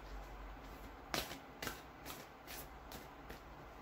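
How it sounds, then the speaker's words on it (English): Tarot cards are shuffled close by, soft riffling with a few sharper flicks in quick succession, quiet and without voices. "One more shuffle."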